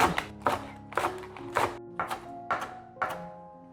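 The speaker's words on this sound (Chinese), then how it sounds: "2片高丽菜，切成条状" A kitchen knife chops two leaves of cabbage into strips on a cutting board, about eight crisp, evenly spaced strokes in a steady rhythm, close and clear with a woody knock under each cut.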